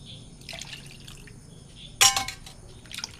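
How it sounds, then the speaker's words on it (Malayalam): Tamarind water poured into a pan of tomato, small white bird's-eye chillies and ginger makes a brief nearby splash and liquid rush, with a few soft drips and clinks before and after. "പുളിവെള്ളം ഒഴിക്കുക."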